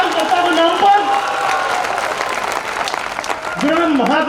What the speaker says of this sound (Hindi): ताली बजाओ बहुत जोरदार इन कार्यकर्ता के नाम पर